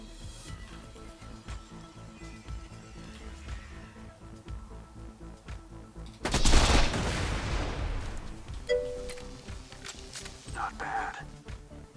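Sniper rifle fire at tanks in the Borderlands video game, a loud burst of gunfire and explosion breaking out suddenly over a steady game soundtrack, then trailing off into a long decaying rumble.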